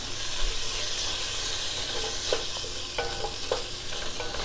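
Asparagus sautéing in a skillet gives a steady, close sizzling hiss, with a few soft stirring scrapes and clicks rising through it.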